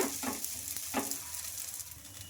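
A rumali paratha sizzles on a hot griddle, with a steady bright frying hiss and a couple of soft taps early on.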